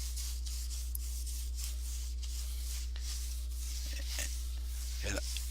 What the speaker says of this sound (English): I'm just rubbing it into the canvas right now.